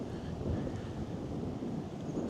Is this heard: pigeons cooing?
no